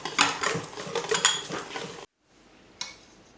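A spoon whisks crepe batter with butter in a bowl for apple pineapple crepes, making rapid, close scraping and clinking strokes for about two seconds. A pause follows, then a single faint knock.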